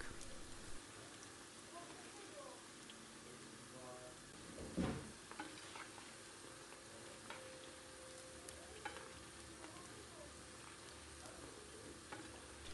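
Lokma dough balls fry in hot oil, giving a steady close sizzle with occasional louder bubbling bursts and faint stirring over a long stretch.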